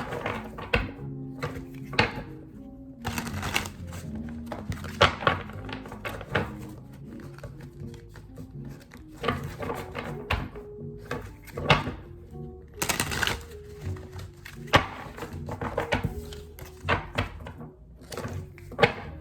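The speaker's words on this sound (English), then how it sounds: "let me do 5 shuffles" Celestial Tarot cards being shuffled by hand five times, giving a run of soft papery riffles and irregular thumps and clacks at close range, with quiet gaps between bursts.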